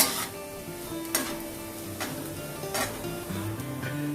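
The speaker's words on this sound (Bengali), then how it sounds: "তো আমি গার্লিকটাকে হালকা একটু ফ্রাই করে নিচ্ছি।" Garlic lightly frying in hot oil for a vegetarian chilli soya chunks dish, giving a steady soft sizzle with a few sharp clinks of a utensil against the pan, close and alone.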